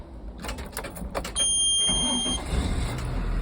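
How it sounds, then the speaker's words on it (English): A bus engine cranks in a few choppy bursts, then catches and settles into a steady idle rumble with a brief high electronic tone sounding as it starts. "So now I'm gonna turn on my bus"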